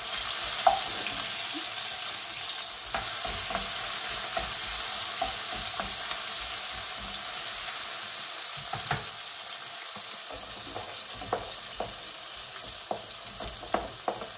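Tomatoes and vegetables are stirred in a hot pan, a steady sizzle broken by soft scraping and clicking taps of the utensil, close and moderate with no voices.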